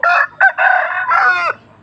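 A rooster crows once up close, a loud, harsh cock-a-doodle-doo broken into a few bursts, with no other sound around it.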